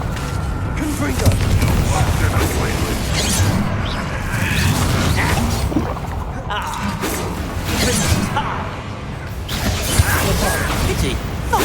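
A Confringo spell in Hogwarts Legacy erupts in booming, crackling blasts with whooshes and clattering debris, loud and close amid ongoing combat effects and voices.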